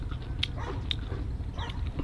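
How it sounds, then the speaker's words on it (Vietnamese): Outdoors in the Vietnamese countryside, a dog gives short, faint barks and yips over a steady low rumble of background noise. "Ui, có chó các bạn ạ."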